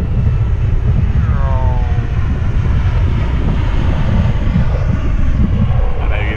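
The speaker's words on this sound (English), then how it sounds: "You can probably hear it. The old aeroplane in the sky." An old propeller aeroplane drones overhead, a loud continuous engine roar with a slight pitch sweep as it passes, steady through the whole stretch with wind buffeting the microphone.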